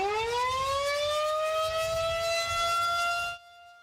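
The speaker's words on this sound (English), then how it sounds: "Hopefully you heard the statewide tornado drill today. The sirens went off at 1:45 this afternoon." A civil defense tornado warning siren wails during a statewide drill, its tone rising and holding loud and steady before cutting off abruptly near the end.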